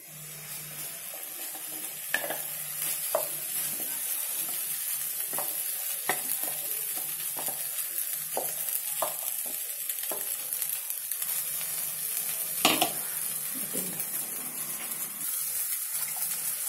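Spice paste hits a hot pan for Paneer Butter Masala and sizzles steadily while a spoon scrapes and stirs with intermittent knocks, close and continuous.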